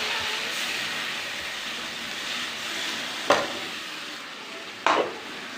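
Chopped onions fry in a pan in a home kitchen, giving a steady close sizzle throughout with two sharp utensil clatters near the end.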